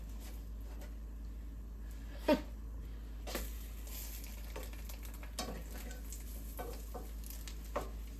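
French toast sizzling in a frying pan, a faint, steady crackle with a few sharp utensil clicks and scrapes as pieces are moved.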